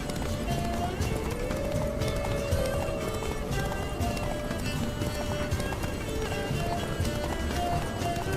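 Roach, Geralt's horse in The Witcher 3: Blood and Wine, gallops with a steady, fast clip-clop of hooves on the ground throughout, loud and continuous, mixed with game music and ambience.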